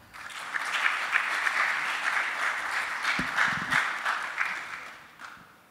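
An audience at a university engineering symposium applauds to welcome two computer engineering graduates, a steady wash of many hands clapping that holds for several seconds and then tapers off.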